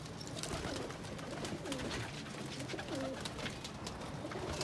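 A pair of Ferozpuri pigeons coo softly, with repeated low rolling coos over a busy, faint background of rustling and small knocks.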